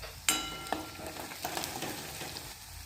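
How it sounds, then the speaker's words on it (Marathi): Onion with chilli powder and turmeric sizzling in hot oil in a kadhai as a mixed-vegetable dish is tempered, a steady crackling hiss with a few sharp spits and pops near the start. "आणि आता मी इथे भाजी फोडणी देत आहे. तेल तापलेलं आहे छान कढईमध्ये"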